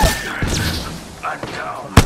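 Gunfire in the video game Apex Legends comes as a few sharp cracks and thumps amid game voice lines, with a loud bang near the end.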